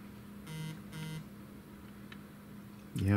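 Phone notification beep: two short electronic tones sounding in quick succession over quiet room noise, followed by a brief louder warbling sound at the end.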